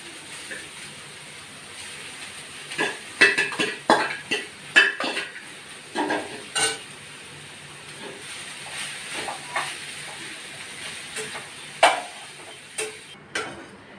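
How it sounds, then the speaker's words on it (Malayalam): Grated carrots fry in hot ghee for semiya payasam, a soft sizzle running beneath many irregular metallic clinks and scrapes of a spoon against the pan, busiest in the first half and sparser later. "ഞാൻ നെയ്യ് ഒഴിച്ചിട്ടുണ്ട്, അതിലേക്ക് ഞാൻ ഈ ക്യാരറ്റ് ഇടുകയാണ്."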